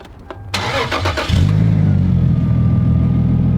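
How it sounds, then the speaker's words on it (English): A few clicks, then a stock 2JZ-GTE engine in a Lexus GS 300 with mufflers removed cranks briefly and fires into a loud, rumbling idle, close by and unmuffled. "Stock, except we pulled the mufflers off. Start her up!"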